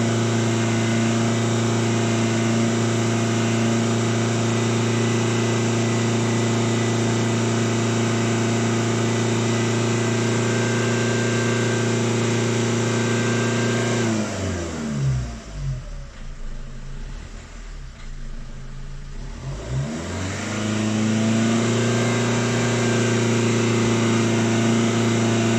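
A Fiat Grande Punto engine, held at raised revs to warm it up, drones steadily and loudly at high speed. Midway the revs drop and sag for several seconds, then climb back to a sustained high whine.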